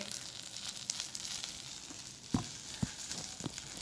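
Eggplant slices frying in a pan with spices, onion, garlic and chana dal give a steady close sizzle, broken by a few sharp pops and spatula clinks.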